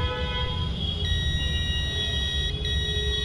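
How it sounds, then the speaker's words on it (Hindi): Multimeter on continuity mode beeps steadily against a coil shorted to ground near a phone's power IC, a thin sustained electronic tone over a low bench hum. "पूरे फ़ोन में हमें इस पावर आईसी के पास ये कॉइल मिली है जो ग्राउंड के साथ बीप कर रही है"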